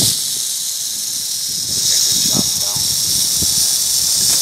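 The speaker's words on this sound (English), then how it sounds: "Oh, there goes that rattle." A timber rattlesnake at its den buzzes its tail rattle in a steady, continuous high hiss that swells louder midway, with brief human voices and movement underneath.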